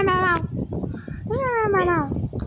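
A cat meows twice in the Melon Sandbox video game, loud and close. Each call is a drawn-out, falling tone, with a busy rustling background underneath.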